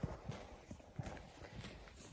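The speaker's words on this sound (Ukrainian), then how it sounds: "Ось така пара коней" A pair of horses' hooves clip-clop in an uneven walking rhythm, close by, with a low rumble of outdoor background noise.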